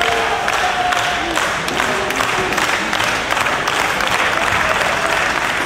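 A wrestling crowd during a match between Roderick Strong and Matt Hardy cheers and applauds steadily throughout, with dense clapping and scattered shouts under a loud arena roar.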